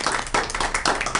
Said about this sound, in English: they do need a round of applause